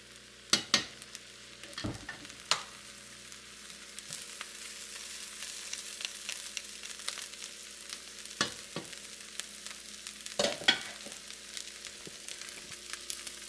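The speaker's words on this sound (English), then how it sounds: "And then you just stir it all together." Andouille sausage fried rice is stirred in a pan with sesame oil, a soft steady sizzle under scattered scraping clacks of the utensil against the pan, several sharp knocks coming in clusters near the start and later.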